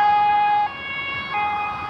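An ambulance siren in a video game sounds loud and close, a steady two-tone wail that shifts pitch partway through.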